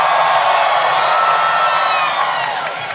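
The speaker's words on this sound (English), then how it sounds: "That was like a moment for you guys to cheer." A crowd cheers and whoops at an armored MMA axe fight, a broad sustained roar of many voices that fills the space and slowly fades toward the end.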